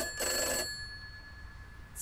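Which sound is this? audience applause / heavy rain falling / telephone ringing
telephone ringing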